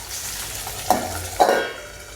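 Peas being stirred in a cooking pan while they fry, with two distinct scraping strokes of a utensil against the pan over a soft, steady sizzle.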